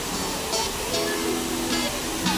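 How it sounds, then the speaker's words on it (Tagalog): Hinulugang Taktak waterfall pours in a constant, loud broadband rush of falling water, with faint voices and bird-like chirps barely audible beneath the roar. "Oh, Hinulugang Taktak Falls."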